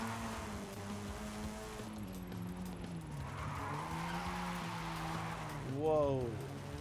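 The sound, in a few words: car driving in video game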